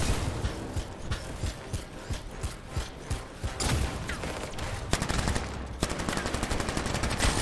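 Gunfire in the video game Anthem, rapid bursts of automatic shots in uneven rhythm, loud and close, thickening into continuous heavy fire in the second half.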